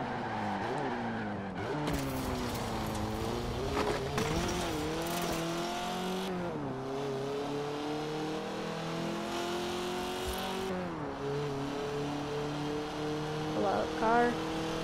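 A car accelerating in the racing game Forza Horizon 4, the engine note climbing and dropping through repeated gear shifts with brief tire squeals, steady and moderately loud throughout.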